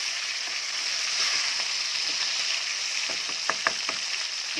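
Three fish fry in hot oil in a home kitchen, giving a loud, steady, hissing sizzle throughout, with a few sharp spatters and crackles near the end.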